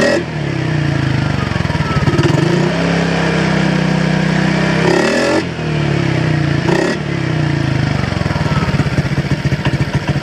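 A Honda PCX 125 scooter with an aftermarket Chana street bike exhaust pipe revs hard and loud up close, repeated throttle blips climbing and dropping with a raspy, clattering exhaust note.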